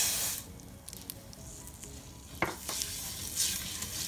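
Rice and garlic fry in a pan with a steady soft sizzle, broken by a few brief stirring scrapes and clinks, close by with no talking.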